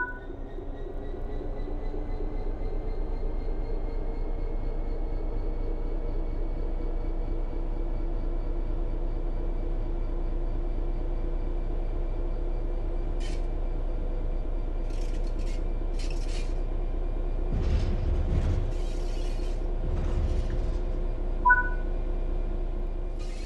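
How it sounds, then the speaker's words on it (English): A train in the Train Sim World 3 video game pulls away under throttle, a low steady motor hum slowly rising in pitch, with faint clicks and a short chime near the end. "Apply some throttle to get the train moving."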